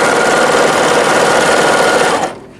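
A serger sewing machine runs in a fast, loud, steady mechanical buzz for about two seconds, then winds down and stops abruptly.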